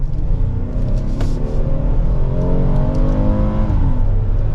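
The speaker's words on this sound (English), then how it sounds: "we are going to put this into sport mode. And you'll be surprised with this V6 engine. Let's give it some gas." A 2023 Kia Telluride SX Prestige X Line's V6 accelerates hard at full throttle in sport mode, a loud, steady rising engine roar heard from inside the cabin with no talking.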